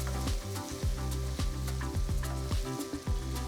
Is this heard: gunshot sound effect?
no